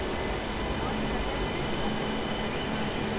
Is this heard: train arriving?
yes